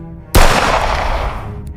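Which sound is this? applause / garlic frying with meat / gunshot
gunshot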